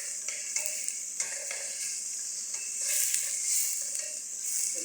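Onions sizzle in a hot pan for bitter melon papaitan, a bright, steady hiss with occasional stirring scrapes and light pops, loud and close with no talking.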